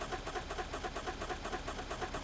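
A BMW X5 engine failing to catch on a start attempt, giving a steady, pulsing mechanical churn that repeats evenly, close by and loud, with no talking.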